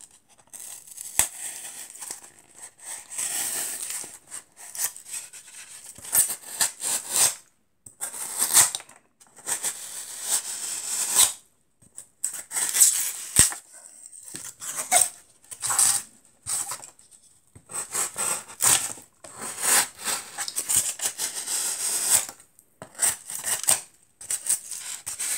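Scissors cut through material for a holiday diorama base in irregular bursts of crisp snipping and rustling, separated by short pauses, close and moderately loud.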